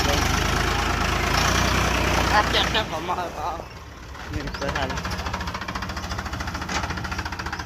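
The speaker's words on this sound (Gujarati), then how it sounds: "આ જોઈ લો ખાલી ટ્રેક્ટર ચાલુ હોય" A tractor engine idles with a steady, rough chugging rumble that dips briefly midway, then resumes its rapid, even knocking pulse close by.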